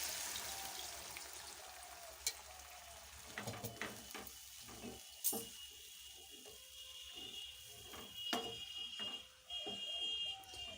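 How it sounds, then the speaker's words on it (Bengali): Water is poured into fried, oil-released spice paste for a Bengali fish begum bahar gravy, producing a steady hissing, splashing wash with scattered crackles and pops, close by and unaccompanied by speech. "এরপর দিয়ে দিচ্ছি আমি জল।"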